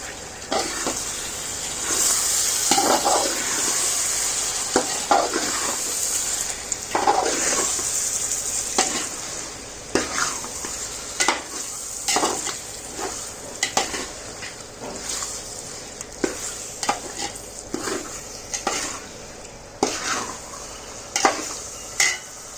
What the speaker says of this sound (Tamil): உடனே சிக்கன் ஆட் பண்ணிடுங்க. அதில் இப்போ நம்ம எல்லா சிக்கனையும் இப்போ ஆட் பண்ணிட்டோம். ஆட் பண்ணிட்டு கிளறி விடுங்க.